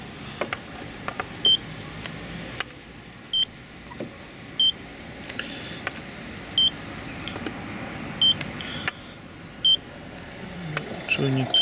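A paint thickness gauge on a 2001 VW Golf IV or Bora body beeps in short, evenly spaced bursts roughly every second or two, under someone talking and handling the car.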